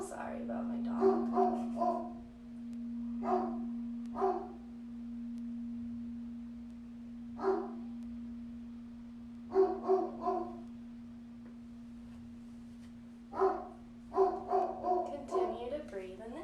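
A dog barks in short bursts at a lawnmower running outside, loud and close, with a steady hum underneath and gaps of quiet between the outbursts.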